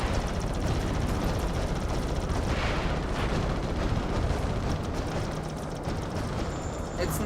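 Missiles launching and exploding in Ratchet & Clank, a dense continuous roar of blasts and booming rumble, loud and sustained without clear breaks, with a voice faintly mixed in.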